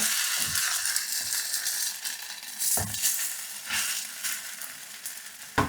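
Slices of Spam browning in a little oil in a pan, a steady bright sizzle with several soft scraping knocks as the pieces are turned, close and fairly quiet, no talk.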